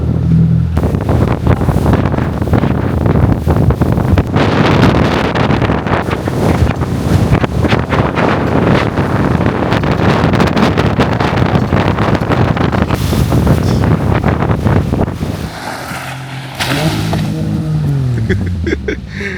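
Strong wind roars across the microphone during a boat ride in Sri Lanka, a loud steady rush with water and engine noise beneath, easing slightly near the end.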